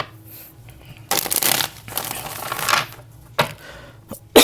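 Tarot cards being shuffled in several quick riffling bursts, close and crisp, separated by short pauses.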